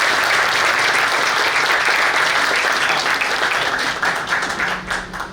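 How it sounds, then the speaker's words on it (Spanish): A roomful of people gives loud, dense applause for the guest of honour, Dr. Guido Gómez Mazara, at an ADEPE 50th-anniversary breakfast forum. The applause is sustained and close, then thins and tapers off near the end. "con un gran aplauso al doctor Guido Gómez Mazara"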